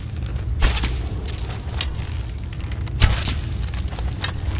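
Two sharp shots crack out about two seconds apart in the video game The Elder Scrolls V: Skyrim, over a steady low rumble, each a brief loud burst.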